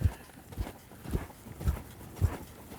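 A ridden horse's hooves clip-clop at a steady walking rhythm, with regular low thuds roughly every half second, close and fairly clear over faint background noise.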